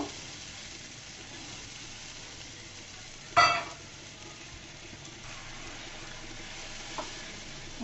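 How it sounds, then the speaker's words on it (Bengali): Spice paste sautéing with onions in oil for a rohu fish-head curry with beans, potato and eggplant, a low steady sizzle with one sharp stir-scrape clatter partway through and a faint tap near the end. "এ পর্যায়ে আমি মশলাটাকে ভালো মতো কষিয়ে নিব"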